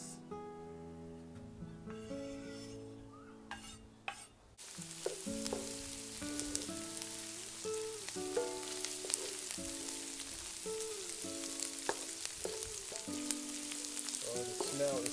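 Chili peppers hitting a hot pan for pork sisig: after a quiet opening a steady, loud crackling sizzle takes over and keeps going under music, with no talking.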